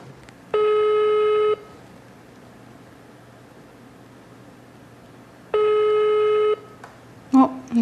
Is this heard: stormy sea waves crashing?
no